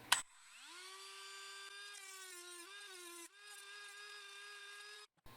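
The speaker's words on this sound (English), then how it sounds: "my Dremel with the cut-off wheel here, and put on pretty high speed" A Dremel rotary tool on high speed with a cut-off wheel cuts through an arrow shaft, giving a steady high-pitched whine that spins up, wavers slightly under load, dips briefly midway, then cuts off.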